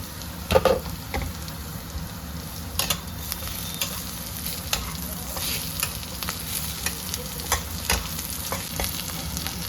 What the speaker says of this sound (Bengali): পেঁয়াজগুলো একটু লাল লাল করে ভাজতে হবে